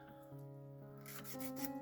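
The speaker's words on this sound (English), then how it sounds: "a little bit of sanding never hurt anyone" Soft rasping strokes of sanding on a small plastic model engine part, a few quick rubs, quiet and close over a faint tonal hum.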